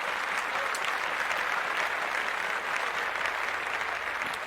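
A podcast applause sound effect plays as dense, steady crowd clapping, loud and unbroken for several seconds.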